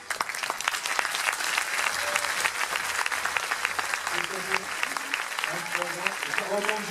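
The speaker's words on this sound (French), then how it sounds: "On peut l'applaudir, c'est 40 ans de judo." An audience at a judo club gala claps steadily for a long-serving member, the applause dense and continuous with someone talking over it.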